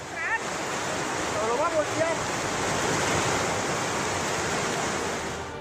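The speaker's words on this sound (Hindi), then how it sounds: "बारिश के बाद लहरें तबाही मचाने को तैयार हैं।" Swollen Teesta river floodwaters in Sikkim surge after monsoon rain, a loud, continuous roaring rush of water heard up close. Faint voices and brief whistling tones sit underneath.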